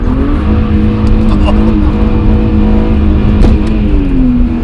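BMW 330ci Clubsport engine revving hard past 4,000 rpm while driving, a loud sustained engine drone whose pitch climbs and settles with a brief shift, close up from inside the car.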